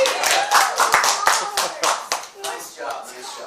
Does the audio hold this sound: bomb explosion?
no